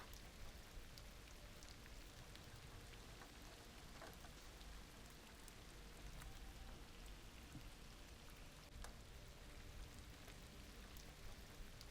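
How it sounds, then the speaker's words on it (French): Steady rain pattering on surfaces with occasional distinct drops, a soft continuous hiss throughout and no voices. "la pluie te saisit"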